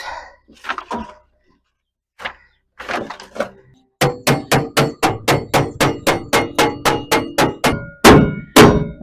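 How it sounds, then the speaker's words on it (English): Hammer blows ring out on the sheet metal floor panel of a 1960 Chevrolet Biscayne in a fast, steady series, loud and close, after a few scattered knocks and shuffles. "Couple of passes with the hammer and we'll have it"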